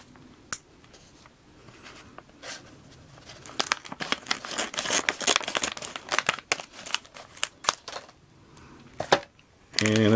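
Scissors snipping and crinkling through a plastic Playmobil Scooby-Doo mystery bag, a run of close rustles and cuts ending in a sharp tear, with some speech around it.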